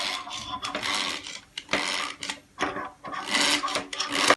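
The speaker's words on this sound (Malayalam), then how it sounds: "നമുക്കിനിയും ഒരു ഹാൻഡ് ബീറ്റർ ഉപയോഗിച്ച് നല്ലപോലെ ബീറ്റ് ചെയ്തെടുക്കാം." A hand beater whisks a snow pudding mixture in a bowl, giving rhythmic scraping, whirring bursts up close that come in quick pulses with short pauses between strokes.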